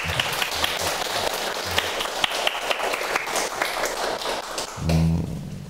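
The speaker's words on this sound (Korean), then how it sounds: "두 분 박수 한번 받으시죠" Scattered clapping from a small group, with sharp irregular claps over a noisy background, ending in a brief low thump.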